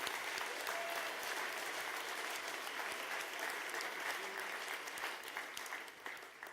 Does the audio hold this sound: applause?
yes